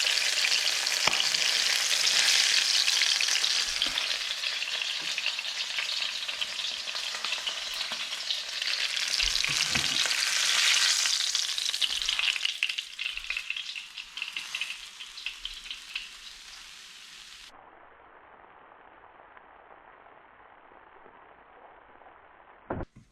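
Pollock pieces frying in hot oil produce a loud, continuous, close crackling sizzle with occasional stirring knocks, which cuts off abruptly and leaves faint quiet.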